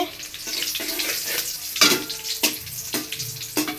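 Cumin seeds frying in hot oil for a bottle gourd curry, a steady bright sizzle with a few louder crackling bursts and stirring scrapes, close and continuous.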